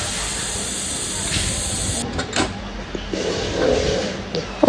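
A pressure cooker of mutton curry with water, black pepper, mutton masala and coconut powder vents a loud, continuous steamy hiss that cuts off abruptly midway, followed by softer hissing bursts and clatter.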